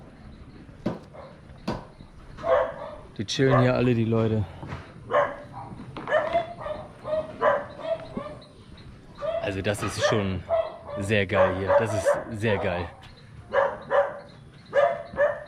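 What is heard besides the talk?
dog barking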